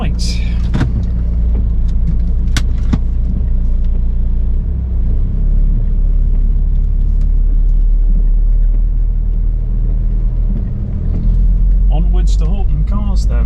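Volvo V70 D5 diesel loan car rumbling steadily from inside the cabin as it drives, a continuous low engine and road drone with a few brief clicks and knocks, and a voice speaking near the end.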